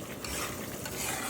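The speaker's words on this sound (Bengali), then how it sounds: "ওইটা ভেজে নিই।" Frying and stirring for beef biryani in a pan: a steady, dense sizzle with scraping stirs through it, close and fairly loud, with no voice.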